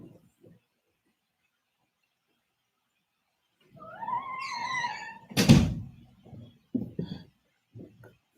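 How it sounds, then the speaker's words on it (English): An indoor door at home swings shut: a rising squeaky whine, then one solid thud, followed by a few softer knocks and bumps before silence. "take a second and close that door."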